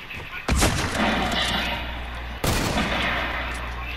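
Two loud hunter rifle shots ring out in Fortnite, about two seconds apart, each a sharp crack followed by a long booming decay, with no talk over them.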